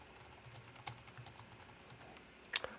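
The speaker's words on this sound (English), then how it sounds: "I'm going to type a message." Typing a message on a computer keyboard, soft irregular keystrokes tapping at a quiet level, ending with a sharper louder key press.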